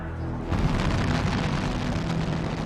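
Saturn V rocket lifting off with a massive, continuous deep roar that swells after a brief lead-in and stays loud and dense throughout.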